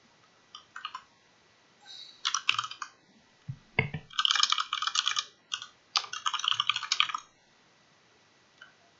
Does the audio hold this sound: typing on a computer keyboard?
yes